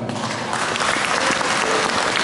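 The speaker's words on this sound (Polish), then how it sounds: "Brawa dla niego jednego." Dense, steady applause from a church audience at a Christmas carol concert in a parish, greeting a child playing a shepherd in the nativity scene, loud and continuous throughout.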